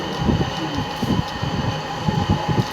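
Rumbling train noise inside a wide railway station in Switzerland, a steady low mechanical roar with uneven surges throughout and no speech.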